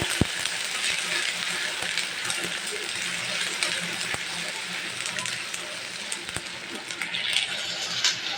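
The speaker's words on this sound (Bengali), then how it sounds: "এখন ভালো করে আমি একটু কষিয়ে নিচ্ছি" Green chili paste sizzles and fries steadily in a pan as it is stirred and sautéed, a dense close frying hiss with occasional sharp clinks of a utensil against the pan.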